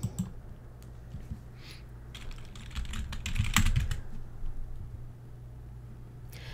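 Steady typing on a computer keyboard, a continuous patter of light key clicks with a brief denser burst midway, close and clear with no voices.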